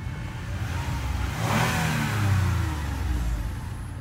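A car engine revs close by, rising to a swelling roar midway and then easing back down, with no talking.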